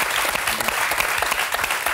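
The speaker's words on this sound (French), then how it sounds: "Je vous demande d'applaudir Jean Rachid" A TV studio audience applauds a guest on a French talk show, a dense, even wash of many clapping hands that carries on steadily for the whole stretch, loud and close.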